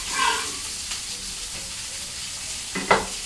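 Red onion frying and sizzling in a pan for butter chicken, a steady soft crackling hiss with a few brief louder clatters of stirring or tossing.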